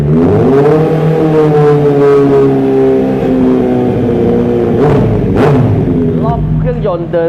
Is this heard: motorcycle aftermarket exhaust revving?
yes